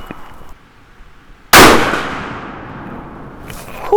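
A single sharp, loud crack from a 30-06 rifle firing a 168gr Hornady BTHP handload, with a long decaying echo after the blast in an otherwise quiet setting.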